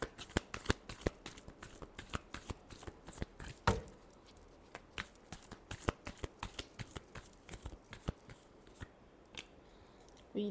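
A deck of tarot cards is shuffled rapidly by hand, dense close crisp riffling and flicking strokes in a continuous, uneven rhythm with no voices.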